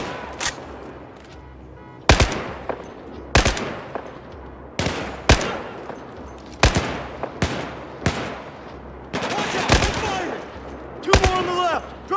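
Battlefield 4 combat gunfire: loud, sharp bursts of rifle and machine-gun shots at irregular intervals over about twelve seconds, with short voiced shouts between volleys.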